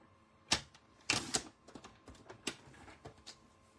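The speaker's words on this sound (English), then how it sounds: "So I'm going to trim down some basic black." Paper trimmer slicing basic black cardstock, heard as a quiet, close sequence of sharp clicks and scraping strokes, with one longer swipe among the taps.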